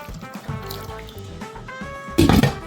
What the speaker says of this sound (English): You go in some more water.